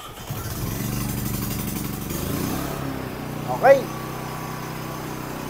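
A 3,200-watt push-button-start generator runs during a factory test with a steady, buzzy engine drone that settles to a quieter level midway. Someone speaks briefly over it.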